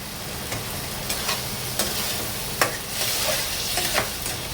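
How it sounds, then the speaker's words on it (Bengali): Masala is sautéed in a frying pan with a soft, continuous sizzle. A spatula scrapes and taps the pan every second or so, close and fairly quiet, with no talking. "এটা ভালো করে এবার কষিয়ে নেব।"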